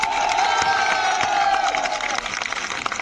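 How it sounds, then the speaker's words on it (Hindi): A crowd welcoming a central minister at a public event in Sambhar Lake cheers and claps, with a sustained tonal hum and scattered claps over steady crowd noise. "जोरदार तालियां"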